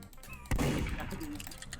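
A sudden burst of gunfire in a Roblox game, one sharp loud shot followed by a rough, sustained rattle, with faint voices and game sounds underneath.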